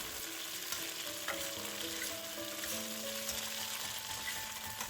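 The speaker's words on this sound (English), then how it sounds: "Then stir the shrimp and fry for another 10 seconds until the shrimp almost change" Shrimp stir-frying in oil in a pan for a shrimp and bok choy stir fry, giving a steady, close, continuous sizzle with no breaks for the whole stretch.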